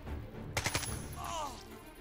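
Two gunshots from a mercenary's rifle in the turn-based tactics game Jagged Alliance 3, sharp close cracks in quick succession over quiet ambient game sound, followed by a brief whooshing tail.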